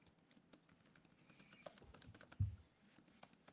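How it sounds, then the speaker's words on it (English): Quiet typing on a computer keyboard, a scattered run of light key clicks with one heavier thump partway through, close by in an otherwise quiet room. "What are you typing in, Carl?"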